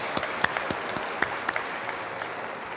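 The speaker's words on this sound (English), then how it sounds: "please let's give an applause to the people working behind those curtains" A small audience claps, with scattered sharp hand claps standing out over a steady patter of applause.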